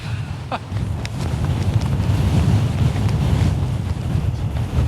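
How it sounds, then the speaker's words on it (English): Strong wind on the Clough Head fell in the Lake District buffets the microphone in a steady, roaring rumble that swells and holds, loud and close, with no voices. "It's flipping windy, really, really windy."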